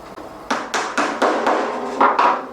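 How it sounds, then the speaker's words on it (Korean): A urethane mallet taps a wooden wedge down into soaked rattan cane while a cane tray is woven, giving six or seven sharp, close knocks in an uneven rhythm, each followed by a short ring, with no talking. "이 우레탄 망치를 이용해서 이렇게 눌러주시면서 하시면 됩니다"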